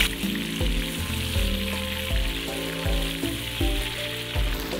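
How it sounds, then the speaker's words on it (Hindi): Ginger garlic paste sizzles in hot oil with a steady hiss throughout, while low, steady musical notes play in the background. "लहसुन अदरक के पेस्ट को थोड़ा सा हम भून लेंगे।"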